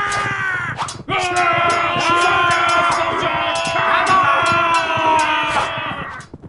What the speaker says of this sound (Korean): 요란한 북소리와 함께 고려 군사들이 함성을 지르며 달려들었지만